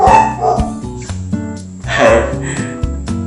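Several dogs bark in short bursts close by, loud and overlapping, competing with background game music and a speaking voice.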